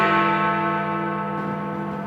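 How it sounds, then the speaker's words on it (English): Big Ben chimes in London as the New Year arrives, a single deep, loud bell strike ringing out and slowly decaying with rich, sustained overtones. "London rang in 2013 to the chimes of Big Ben"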